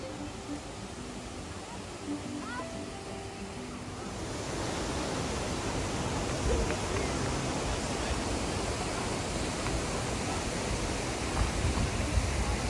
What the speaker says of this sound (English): The sound of the waterfalls